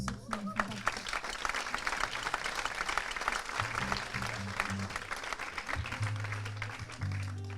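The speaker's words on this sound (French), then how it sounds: "Merci beaucoup, vous pouvez vous applaudir pour ceux qui en font partie." A concert crowd at l'Azile in La Rochelle claps steadily for several seconds while low keyboard or bass tones hum underneath, the applause moderately loud and sustained throughout.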